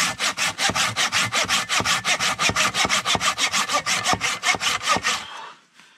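Hand saw cutting through wood in a wild forest camp, steady back-and-forth strokes about four per second, close and loud, stopping abruptly near the end.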